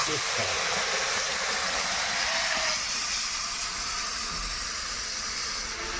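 Fennel, five-spice, whole garam masala, dried red chilli, bay leaf and onion sizzle in hot oil in a pan, a steady loud broadband hiss throughout.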